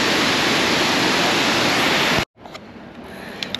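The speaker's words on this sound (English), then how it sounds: "Here's the falls we are facing." Loud, steady roar of a nearby waterfall at the Lewis and Clark Interpretive Center, broadband and continuous, then it drops away to a quieter, softer rush of water.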